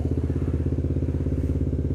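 An old, cold Honda CB motorcycle engine that has not been run in a while chugs and runs loud and close, a rapid even beat with no break.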